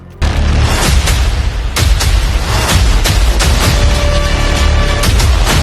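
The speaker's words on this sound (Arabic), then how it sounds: "مشهد الانفجارات الغير مبرر في الصحراء، عربية انفجرت فبقية العربيات حبت تجاملها فانفجرت معاها" Several cars blow up one after another in a desert scene from the film 7 Dogs. The booms and bursts are loud and close and run together into a continuous wall of explosions.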